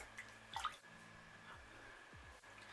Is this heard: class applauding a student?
no